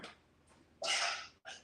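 A single sneeze indoors: a short intake of breath, then a sharp bright burst lasting about half a second, followed by a brief second exhalation.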